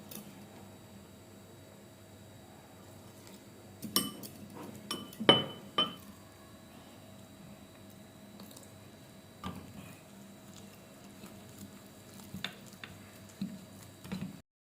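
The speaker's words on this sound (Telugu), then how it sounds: "దీన్ని మనం పోసుకుంటూ మిక్స్ చేసుకోవాలి థిక్నెస్ వచ్చేదాకా" A spoon or whisk clinks and scrapes against a bowl while ragi cupcake batter is mixed and milk is poured in, with scattered sharp taps amid quiet, intermittent stirring.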